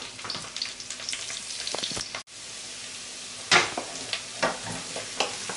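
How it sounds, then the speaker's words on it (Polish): Chopped onion sizzles gently in hot butter while a spoon stirs it, giving a soft, steady frying hiss broken by a few sharper scraping strokes, close and fairly quiet. "Na rozgrzane masło daję cebulę i należy ją mieszać i zeszklić."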